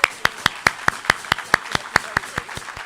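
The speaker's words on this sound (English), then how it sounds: "I want to publicly thank and have stand for a second for a round of applause" One person claps slowly and evenly at a Rotary Club meeting to honor a host family, about a dozen crisp distinct claps at a steady rhythm.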